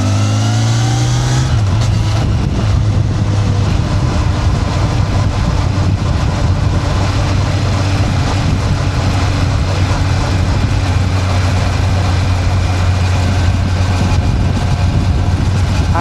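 A Kawasaki Ninja 1100SX motorcycle engine revs up after a brief steady idle, then roars loudly and continuously under acceleration, close and dominant with wind rush.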